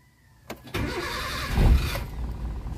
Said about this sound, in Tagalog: Ang tahimik ng makina.